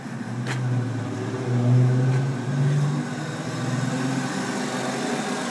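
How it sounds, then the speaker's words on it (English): A van engine runs steadily nearby, rising in a few brief, modest revs before settling back to an even idle. "I think that sounds like a good engine"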